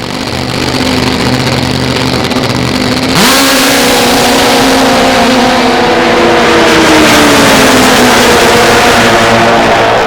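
Two Pro Stock drag racing motorcycles run loud and close at a drag strip, holding a steady droning idle before one abruptly climbs into a harder, higher rev that rises and sustains.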